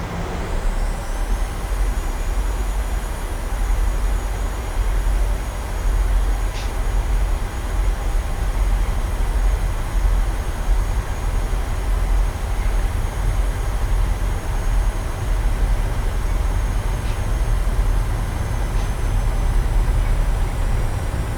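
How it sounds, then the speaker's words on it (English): Boeing 737-800 taxiing in Microsoft Flight Simulator, a steady low engine rumble with a constant high whine, continuous and even throughout with no talk. "brake released. Let's start taxiing."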